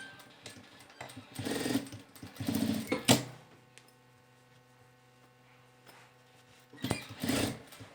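Sewing machine topstitching a leather or fabric wallet seam with the pocket lining folded up, heard in a few short whirring bursts separated by quiet pauses and faint handling sounds.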